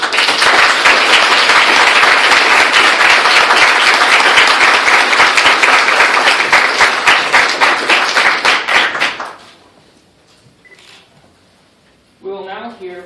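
Loud, sustained applause from a crowd at the 200th anniversary celebration of the Hillcrest Children and Family Center fills most of the clip, dense clapping that thins into a few last claps, then a voice starts speaking.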